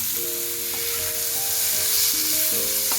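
Salted tomato frying in a hot pan, a continuous bright hiss of sizzling that swells slightly toward the end, with faint steady tonal notes humming beneath and no speech.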